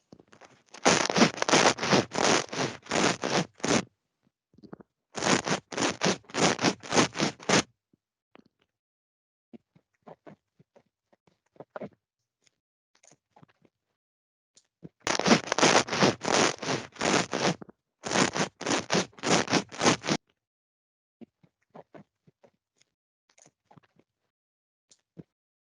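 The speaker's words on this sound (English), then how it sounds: "we'll do the stubble rub with the boom mic" Rapid, harsh scratching bursts as facial stubble rubs against a boom microphone, in two sets of back-to-back groups, loud and close, separated by near silence, with Microsoft Teams noise suppression off.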